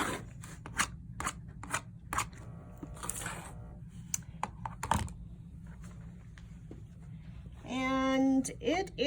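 Scissors snip through a quilted placemat being trimmed and straightened, with a series of sharp, close cuts in irregular rhythm over a low background hum.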